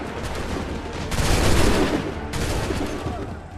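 A ragged musket volley erupts in the Assassin's Creed III video game, a dense rolling burst of near gunshots that swells, fades, then rises again with a second wave.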